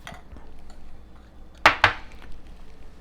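Coleslaw tossed with cilantro lime sauce in a bowl, heard as quiet soft rustling and then two sharp, close clinks of a utensil against the dish in quick succession.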